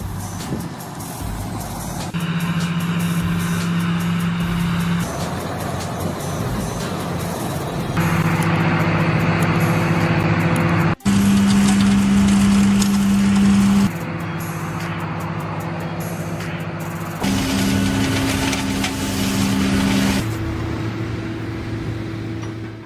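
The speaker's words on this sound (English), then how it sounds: "trucks loaded with fresh tomatoes roll in from the fields to the processing plant" Trucks loaded with fresh tomatoes roll in from the fields to a processing plant. Their engines give a loud, continuous rumble that shifts in pitch in distinct stages, with a sharp click partway through and no talk.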